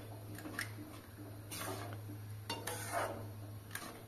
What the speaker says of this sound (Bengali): এভাবে নাড়াচাড়া করব। এখন অনবরত নাড়তে নাড়তে দেখবেন ক্রমশ গুড়টা ঘন হয়ে আসছে।